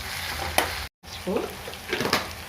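Large chopped onions fry in oil with a steady close sizzle and a few spoon scrapes, cut by a brief gap of silence, and a faint voice murmurs partway through.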